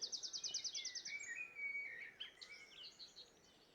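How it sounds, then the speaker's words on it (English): Blackbirds singing vigorously in a wooded undercliff, with rapid repeated whistling phrases near the start and further fluting song and calls continuing, fairly faint and distant against quiet outdoor background. "There's obviously blackbirds singing like mad."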